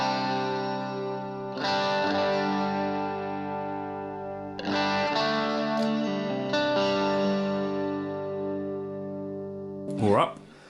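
Electric guitar played through a Boss Katana Air desktop amp with the presence control being adjusted, heard as distorted, effect-laden chords struck three times and left ringing, followed by a brief scratchy noise at the end.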